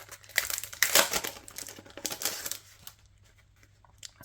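Crinkling and rustling as a Rustic Spring Basics 6x6 paper collection pack is handled, bursts of close, crisp crumpling that thin out into softer, sparse rustles.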